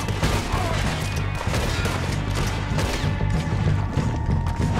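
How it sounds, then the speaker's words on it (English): Rapid gunshots in the Red Dead Redemption 2 video game, a dense stream of cracks over a steady low in-game rumble, moderately loud with no talking. "I'm not shooting very good right now."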